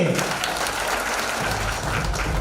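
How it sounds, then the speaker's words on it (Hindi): Loud, dense applause from an audience at an STFI event in Mumbai fills the hall, sustained evenly throughout at strong volume with no pause. "एक बार और जोरदार तालियां सर के लिए।"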